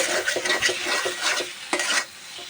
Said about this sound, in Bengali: তো আলু আর টমেটো ভালোভাবে কষায় নিচ্ছি।